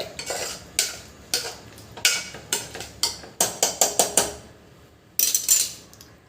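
A spoon stirs chili powder and curd into a rajma biryani mixture in a metal pot, making a run of sharp close clanks and scrapes in an uneven rhythm. A short pause comes near the end before a final burst of stirring, with no talking.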